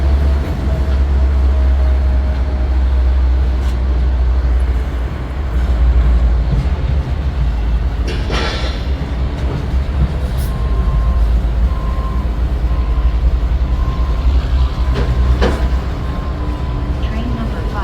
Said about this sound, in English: I got some great shots of some ES series locomotives shoving cars back and forth.